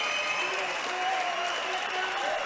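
Crowd applause fills the room at an amputee Muay Thai fight with modified 4oz gloves, a steady, dense wash of clapping and cheering that continues throughout, with commentators talking over it.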